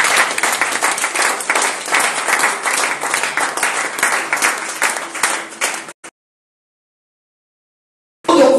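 Church congregation at a Friday worship service applauding and cheering loudly for about six seconds in a dense, continuous burst, then cutting to silence before another loud burst returns at the very end.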